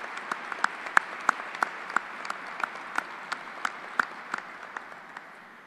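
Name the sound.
audience applause for Air Force leader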